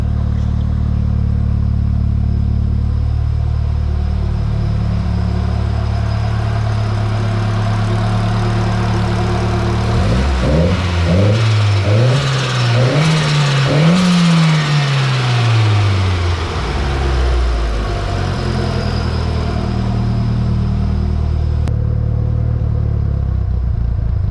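A Nissan 240SX's CA18DET engine with an HKS exhaust idles with a deep, throaty exhaust, then revs up and down in a smooth rise and fall before settling back to a steady idle.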